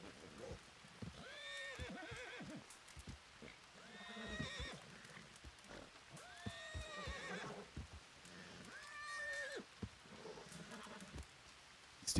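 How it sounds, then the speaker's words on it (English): In a ranch role-play video game, a horse neighs and whinnies several times, mixed with clip-clopping hooves and a soft patter of rain, moderately quiet throughout with no talking. "You want to go settle your horse, Amber, please?"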